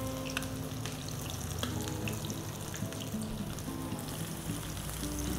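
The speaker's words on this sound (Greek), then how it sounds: "Δεν διαλύεται η τηγανίτα, μένει ένα σώμα. Και έτσι θα μπορέσει να τηγανιστεί όμορφα." Fritters sizzle steadily in a pan of hot oil, with a continuous crackling fry and scattered pops throughout, with no talking.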